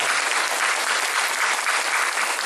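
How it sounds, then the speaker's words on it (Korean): A church congregation breaks into dense, loud, continuous applause to welcome first-time visitors, a steady wash of clapping with no voices standing out. "우리 큰 박수로 그분들 한번 환영합니다"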